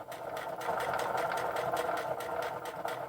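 A sewing machine stitches a zigzag seam close to a seam allowance while a sleeping mask is made, a steady fast mechanical whir with a rapid rhythmic needle beat, near and continuous with no talking.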